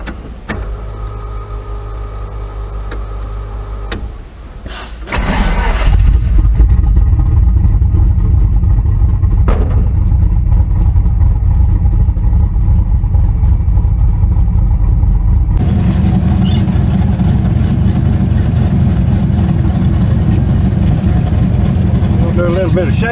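A '74 car's engine runs during a shakedown: a quieter mechanical passage gives way to a loud, close, sustained engine roar that continues steadily to the end.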